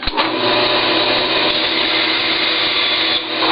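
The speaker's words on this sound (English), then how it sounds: "I take it over to the bandsaw, and so I find my score mark before I turn the saw on" Bandsaw running steadily while cutting a Lexan polycarbonate sheet for an RC rock crawler chassis, a loud continuous whine and buzz that holds level throughout.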